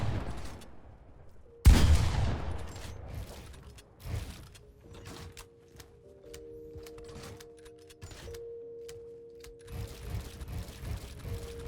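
Shotgun blasts go off in a Fortnite Chapter 2 warm-up course, one loud boom followed by scattered quieter bangs, clicks and mechanical clatter with tonal game effects, no talking.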